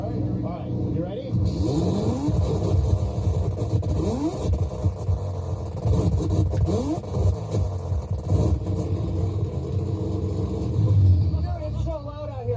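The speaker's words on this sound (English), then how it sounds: "I've never been outside of this car with anti-lag on." A car with anti-lag revs hard as heard from outside, a loud roaring engine with sharp popping bursts, voices talking over it throughout.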